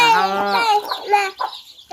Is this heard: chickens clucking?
yes